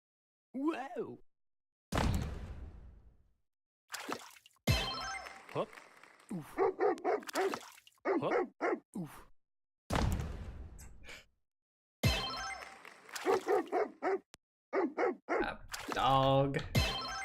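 Short yips and barks from a dog in a video game come in bursts amid lively, near-continuous talk and exclamations from a streamer, with loud overlapping moments throughout.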